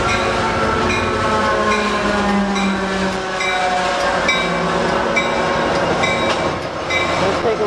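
A passenger train hauled by locomotive 863 rolls past at Fullerton, its steady loud rumble and rhythmic wheel clatter close by, with metallic squeals and a hum running throughout.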